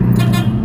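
A car horn gives a short, loud, close toot from a Granmax pickup driving in traffic in Cibinong, over steady engine rumble.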